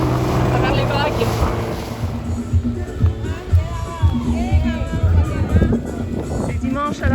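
A boat pushes through choppy waves along a winding channel, with a rumbling engine, wind buffeting the microphone and splashing water, while people talk and call out over the noise.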